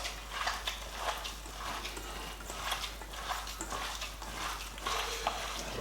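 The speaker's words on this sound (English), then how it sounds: "Get the hands in there, mix it all up." Hands knead and squish a ground chicken patty mixture in a bowl, giving soft, wet squelching and rhythmic mixing sounds that are close and fairly quiet, with a low steady hum beneath.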